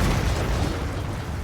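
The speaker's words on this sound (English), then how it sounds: "Peter dresses as the Joker and completely decimates the hospital with a series of explosions." A loud, dense cartoon explosion from Family Guy, where Peter dressed as the Joker blows up a hospital, fills the clip with a sustained, booming rumble and no speech.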